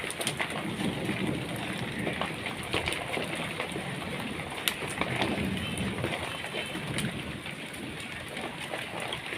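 Hail, mixed with rain, drums on a tin sheet laid over a mug outdoors, a dense, steady, loud clatter of impacts with no pauses and no voices.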